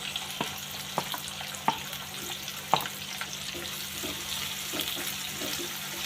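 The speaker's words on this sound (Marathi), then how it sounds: "लगेच त्यामध्ये कापलेला कांदा टाकून घेऊया।" Chopped onion tossed into a pan with ground green chilli, garlic and cumin paste fries with a steady close sizzle, broken by a few light knocks of stirring.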